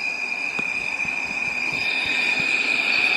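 A train in the Roblox game Mega Miners rolls along with a steady rumbling drone and a high sustained whine, and faint rhythmic clunks pass underneath, constant and fairly loud.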